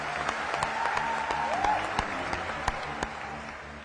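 A crowd at a political rally in Gujarat welcomes Prime Minister Narendra Modi with sustained applause, a fairly soft, distant wash of clapping with a few sharper individual claps standing out and faint background voices.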